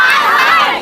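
An angry crowd roars in uproar at a road blockade, a dense, continuous wall of shouting voices held close and loud throughout before easing slightly at the end.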